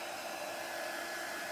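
A heat tool blows hot air in a steady, loud, even hiss while drying a large craft area, with no talk over it.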